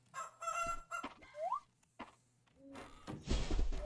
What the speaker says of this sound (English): Oh, little ducklings.